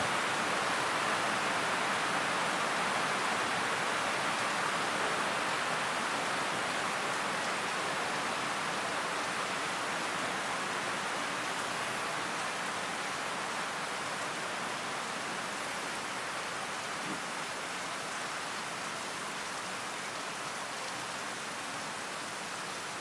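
Rain falling steadily during an outdoor satsang in Rishikesh, a soft, even hiss of drops that stays constant and fairly faint throughout, with no voices.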